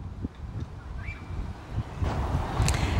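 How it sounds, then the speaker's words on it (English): Steady wind buffets the microphone on an allotment, a rough low rumble with gusts that swell louder toward the end, no voices. "it's very windy at this precise moment"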